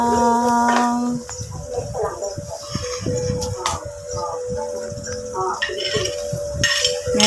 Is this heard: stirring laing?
yes